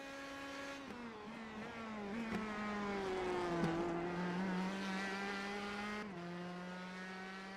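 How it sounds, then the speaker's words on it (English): Indy Pro 2000 race car engines in the iRacing video game at Sebring International Raceway drone with steady, harmonic-rich tones, pitches shifting through gear changes as several cars run together, moderately loud with no talk. "Interesting the different sound these cars make."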